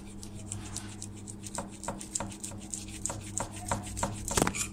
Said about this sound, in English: That's the double-sided tape we're gonna get. So once we get that, we're gonna get a knife.